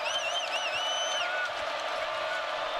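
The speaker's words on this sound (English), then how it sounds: "This crowd making it loud." A college basketball arena crowd roars in a steady wash of noise as Houston plays Iowa State, while whistles or shrill squeals sweep up and down over the top near the start.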